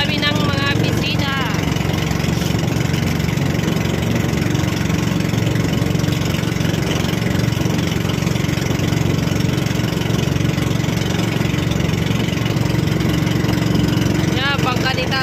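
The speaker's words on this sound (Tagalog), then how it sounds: "Yan, bangka ni Tatay Tatsuki." A small wooden fishing boat's engine runs steadily and loudly close by, a continuous droning chug for the whole stretch, with a voice briefly heard at the start and end.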